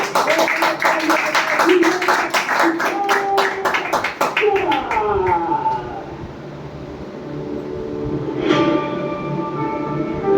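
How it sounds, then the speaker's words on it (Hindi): A seminar audience bursts into loud, dense applause for a guest, sustained for several seconds before thinning out, while a voice and other sounds carry on underneath as the clapping fades. "सिद्धार्थ सिंह सर के लिए जोरदार ताली।"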